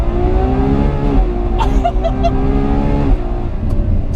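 Ferrari 812 Superfast pulling hard on a race track, its V12 engine note rising steadily through the gears with brief dips at the shifts, loud and close from inside the cabin.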